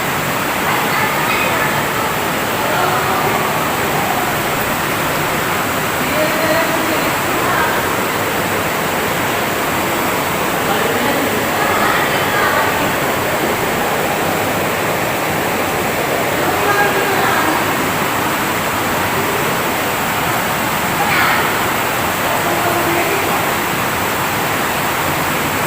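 Rushing water inside a cave near a pool-like basin, a steady broadband roar throughout with faint voices in the background.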